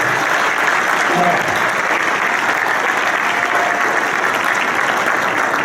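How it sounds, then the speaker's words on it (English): Loud, sustained applause fills an awards ceremony hall as the audience honours a writer and producer, a dense, even roar of clapping from a large crowd with no talk on top. "Let's have a nice round of applause."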